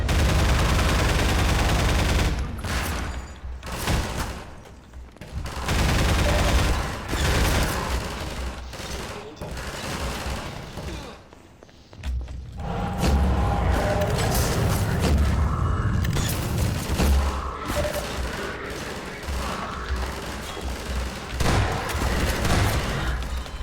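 Gunfire from a weapon's alternate fire in Half-Life 2, heavy bursts of shots and booms with mechanical clanks, loud and continuous across the stretch with a few brief lulls.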